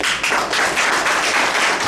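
Wedding guests applauding a witness in Libreville, a dense burst of steady clapping, loud and close, with no voices over it.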